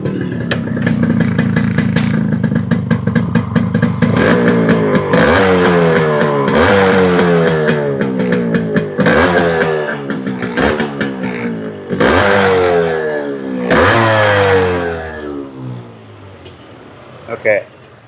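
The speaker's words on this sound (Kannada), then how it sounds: "ಈಗ ಇಂಜಿನ್ ಸ್ಟಾರ್ಟ್ ಮಾಡಿ ಸೌಂಡ್ ಎಲ್ಲ ಇಂಜಿನ್ನಲ್ಲಿ." A two-stroke Yamaha RX motorcycle engine starts and is revved repeatedly, each rev climbing sharply and falling back in a loud, close, rasping burst, with a steady idle between the throttle blips and no talking.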